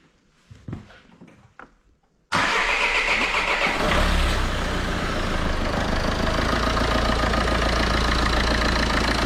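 A Peugeot Partner with a 2.0 HDi diesel engine cranks and fires up after a cylinder head gasket job, then settles into a loud, steady clattering idle close by, following a few faint knocks.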